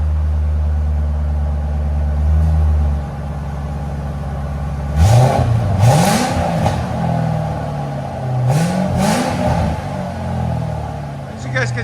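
A 2005-2009 Ford Mustang GT 4.6L V8 with its exhaust valves closed idles with a smooth, muted drone, then gives two short rising revs that fall back to a subdued burble, close by.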